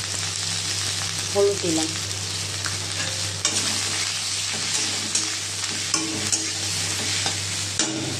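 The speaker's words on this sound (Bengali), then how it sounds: "2টো শুকনো লঙ্কা ফোড়ন দিয়ে দিয়েছি, চিচিঙ্গাটা অ্যাড করলাম" Snake gourd stir-frying in a pan with five-spice tempering and two dried red chillies, a steady close sizzle with occasional stirring scrapes running throughout, and a voice speaking briefly over it.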